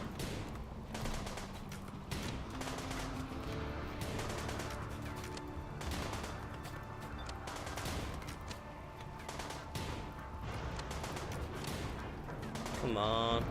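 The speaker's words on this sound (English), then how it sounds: "Did you just shoot him?" Dense, continuous gunfire and clattering bursts in the RimWorld colony game, loud and busy throughout, with a voice speaking over the din.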